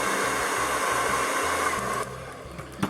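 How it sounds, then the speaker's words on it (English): Hair dryer blowing steadily at close range as it heats the plastic head of a 1979 Remco 10-inch monster toy, a loud continuous whoosh that drops slightly in level near the end with a brief knock. "Using a hairdryer, you can soften the head plastic up"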